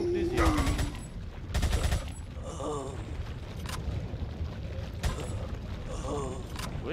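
Rapid bursts of CMP submachine gun fire in Resident Evil 4, several short volleys in quick succession with mechanical clicks and background game noise between them.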